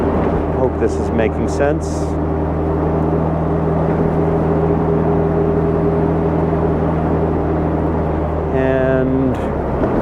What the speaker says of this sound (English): And now I'm on the gas again. Upshift to fourth.